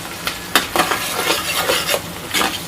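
Onions fry in a pan toward golden brown while a utensil scrapes and stirs in repeated bursts, a close, fairly loud sizzle punctuated by clattering strokes against the pan.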